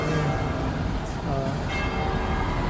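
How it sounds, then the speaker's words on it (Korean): Church bells ringing in the distance over a busy street in Santa Margherita Ligure, Italy, their tolling blended into steady traffic and town noise. "멀리 성당에서 종소리가 울려서"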